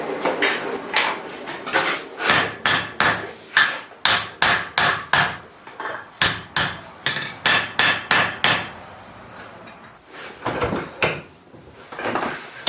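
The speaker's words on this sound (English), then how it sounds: "let the boss hang off the edge of the anvil and hammer it down" Rhythmic metallic hammer blows on hot steel over an anvil ring out in quick bursts, loud and close, with brief pauses between runs of strikes.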